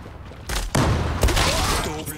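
Rapid bursts of UMP45 submachine gun fire in the online shooter Zula, loud close fusillades with booming impacts and game effects layered over.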